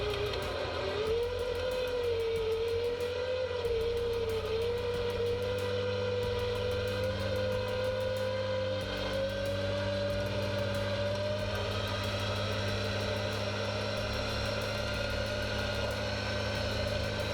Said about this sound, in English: his vehicle is going up pretty easily now